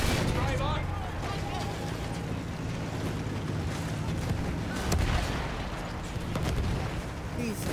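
Heavy field gun artillery fire in the World War I shooter Battlefield 1, booming blasts and rumbling battle noise throughout, with a few louder thumps standing out while people talk over the din.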